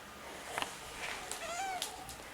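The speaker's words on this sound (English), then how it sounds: "He's a pretty cat." A pet cat meows a few times indoors, short rising and falling cries at close range over quiet background, with no talk.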